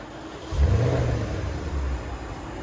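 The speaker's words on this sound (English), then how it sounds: "Porsche Cayenne S. This is what it sounds like before." A 2017 Porsche Cayenne S with its 4.8L V8 on the stock exhaust gives one short rev, a deep rise and fall lasting about a second, close and fairly muted, then settles back toward idle.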